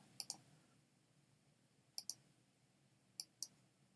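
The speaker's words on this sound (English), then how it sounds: "I like to lay down just click every once in a while, which lays down a point" Three pairs of crisp double mouse clicks, spaced about a second and a half apart, sound close and quiet as lasso points are laid down in Photoshop, with near silence in between.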